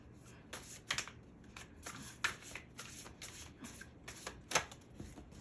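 Tarot and oracle cards being shuffled by hand: quick papery riffles and flicks in a run of bursts, close and fairly quiet, with no talking.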